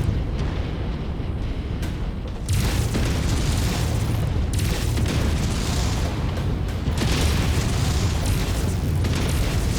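A mech's reactor goes critical and blows up in MechWarrior 5, a loud, sustained roaring boom with deep rumbling that swells midway and continues without a break.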